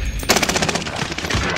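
Rapid bursts of automatic gunfire rattle close and loud in a fast, even rhythm, with gaming-style sound effects and no speech, in the video game Call of Duty: Warzone.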